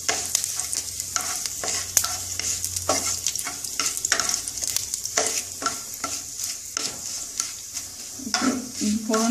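A tempering of bay leaf, dried chilli and cumin sizzles sharply in hot oil, with dense crackling bursts and quick stirring clinks against the pan.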